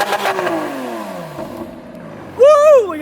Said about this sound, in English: They're revving.